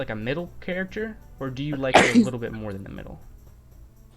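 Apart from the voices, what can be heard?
sneeze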